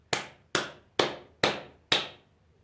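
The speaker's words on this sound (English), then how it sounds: "you're going to clap your hands numerous times, and you're going to do it quite hard" Five hard, sharp hand claps at a steady pace about half a second apart, close and loud, each with a quick decay, and no talking.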